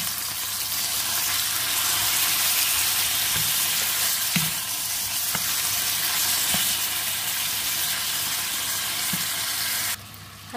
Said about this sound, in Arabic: هلا عم نقلي اللحمه